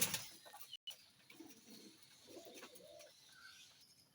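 Pigeons coo softly at a loft while feeding, low murmuring calls rising and falling at moderate distance, with faint chirps and light background rustle.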